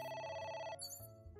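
A telephone rings in the video game AI: The Somnium Files, a bright electronic ring that cuts off partway and gives way to other quiet game sounds.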